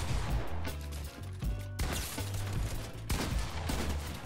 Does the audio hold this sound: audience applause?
no